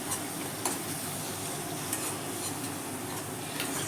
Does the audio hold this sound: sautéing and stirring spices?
yes